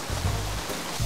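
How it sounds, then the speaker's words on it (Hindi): Rain falling steadily, a dense, even hiss of drops that fills the short moment without pause. "यहाँ इतनी बरसात हो रही है"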